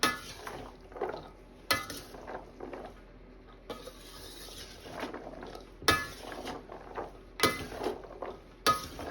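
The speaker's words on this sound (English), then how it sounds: "I'm gonna continue to stir this really well" Beef and green beans are stirred in a metal pot, with repeated spoon clinks and scrapes against the sides in an uneven rhythm and no talk.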